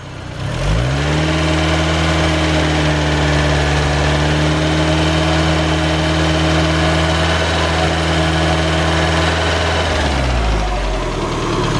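A freshly broken-in turbocharged Mazda Miata engine revs up quickly, holds a loud, steady running tone with a faint lifter tick, then drops back down near the end.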